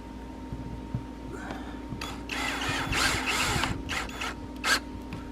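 Power drill driving screws into a shower surround in a cargo trailer camper build, several short whirring bursts of rising intensity over a steady low hum, fairly close.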